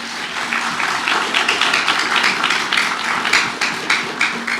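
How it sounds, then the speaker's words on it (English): An audience at a talk by the Tibetan Parliament-in-Exile's Sikyong in New York breaks into steady clapping, a dense, even patter of many hands filling the room. "That clap, started from the parent section"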